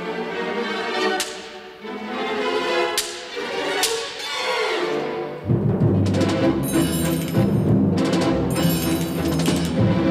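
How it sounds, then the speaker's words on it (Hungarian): An orchestral whip, or slapstick, cracks sharply several times at irregular intervals during the Purcell-theme variations and fugue, each snap crisp and loud against sustained orchestra before the full ensemble swells in. "az ostor."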